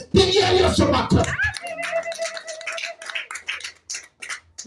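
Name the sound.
church congregation clapping for Jesus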